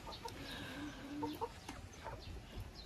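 Young chicks clucking in a poultry enclosure, several soft, scattered calls at close range with no talking.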